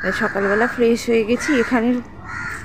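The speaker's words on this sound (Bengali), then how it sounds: "চারিদিকে পাখির আওয়াজ, কাকের ডাক" Crows caw in a quick series of about six harsh calls near the start, with a person talking over them.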